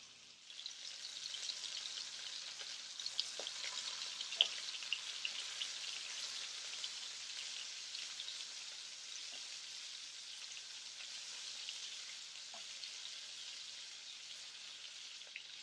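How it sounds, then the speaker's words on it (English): Pork chops sizzle in garlic butter in a Cuisinart pan turned up to 5, a steady close hiss and crackle with a few sharper pops throughout. "We added a little bit more butter, and you can hear the sizzle."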